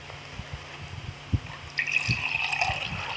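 Tap water poured from a container into oil, a splashing, trickling stream that starts softly and swells into a steady pour near the end, with faint handling bumps before it.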